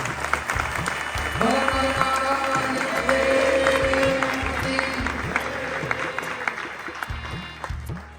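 An assembly of devotees applauds at the start of a temple utsav with poojan and a golden sinhasan opening: a broad, continuous round of clapping from many people, with an amplified voice and low tones sounding over it.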